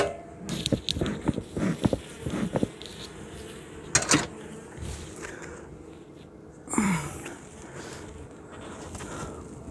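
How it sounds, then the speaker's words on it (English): Honey bees buzz around an open beehive as the lid is handled, a thin, steady hum under scattered knocks and handling noises, with a louder rustle near the end. "We do have a few bees sitting in the lid here, which we're really hoping we're not going to squish putting back on."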